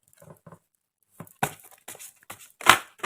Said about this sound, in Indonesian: ini kartunya segede karpet. jadi susah mengocok.